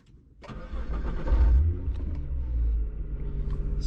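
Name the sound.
Nissan GTR R35 engine starting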